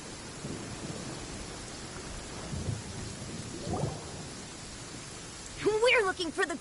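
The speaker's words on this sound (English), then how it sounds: "And it's raining." Soft, steady rainfall hisses in Genshin Impact, with faint low thunder rumbling a few times underneath; a voice briefly speaks near the end.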